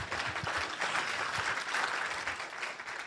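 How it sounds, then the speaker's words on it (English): An audience at a political forum on practical federalism claps together in a full, even round of applause that holds steady throughout, with no speech over it. "yes, you can applaud that"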